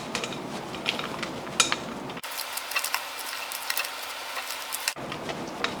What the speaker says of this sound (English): once this is evenly mixed, you can add in your chocolate chips. Then distribute it evenly.